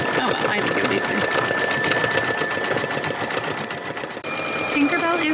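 A machine-embroidery sewing machine runs steadily, stitching out a yellow design for an 18th-century pocket with fast, even needle rhythm close by, with a brief dip near the end before stitching resumes.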